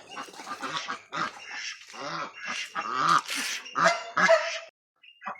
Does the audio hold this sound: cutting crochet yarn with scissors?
no